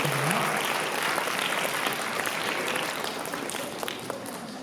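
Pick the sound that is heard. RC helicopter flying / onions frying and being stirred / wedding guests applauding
wedding guests applauding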